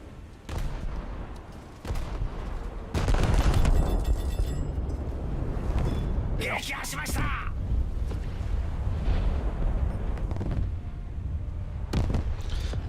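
Main guns of the battleship IJN Kongo fire in a naval video game as heavy, booming salvos that roll out over several seconds, with a few sharp blasts and a brief crackling burst, while someone talks over them.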